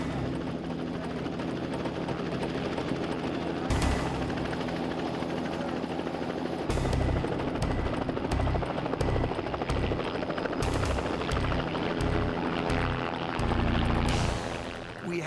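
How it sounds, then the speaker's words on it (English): Helicopter rigged for a movie stunt, with a stunt double rappelling down from it, its steady dense engine and rotor roar sustained throughout, loud and close, with pulsing low thumps in the latter half and no speech. "we rigged the helicopter, and we had our John Cena double, Greg Sproles, coming out of the helicopter"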